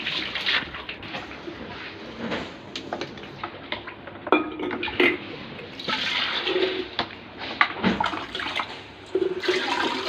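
Water splashes and runs while cut fish pieces are washed in a vessel, with irregular sloshing surges and occasional clanks of the container.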